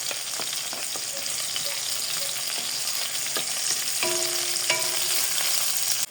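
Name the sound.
onions frying in pan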